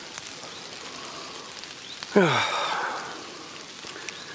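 Rain falls steadily during a fishing outing for bream and eel, a soft continuous patter throughout, briefly overlaid by a short spoken word.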